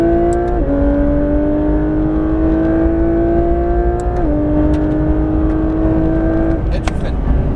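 A Porsche 992 GT3 RS at full throttle on a race circuit, its engine note loud and close, climbing steadily through the revs with two brief dips at gear changes.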